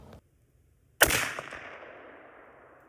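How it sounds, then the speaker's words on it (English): A single loud gunshot from a big gun fired at a pumpkin outdoors, a sharp blast followed by a long decaying echo rolling away over a couple of seconds, with no talk. "we're gonna bust out the big gun here"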